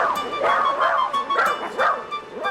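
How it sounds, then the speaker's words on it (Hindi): A dog gives a string of yipping, whining barks, several quick calls in a row, close by and fairly loud, with no talking. "अरे तुम क्यों भौंक रहे हो रॉकेट?"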